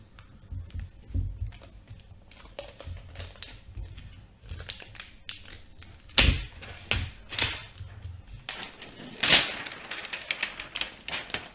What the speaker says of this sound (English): Get this plastic off.